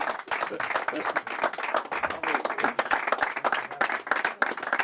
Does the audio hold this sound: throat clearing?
no